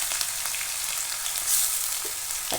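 Crushed ginger and garlic frying in hot oil in a heated pan, producing a short burst of steady hissing sizzle heard up close with a couple of faint clicks, no talking.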